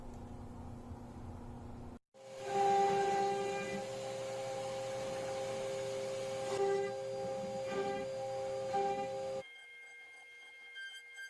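A CNC router cutting out shelves starts up abruptly and runs with a steady, high-pitched whine and layered harmonic tones for about seven seconds. It then cuts off, leaving a quieter hum.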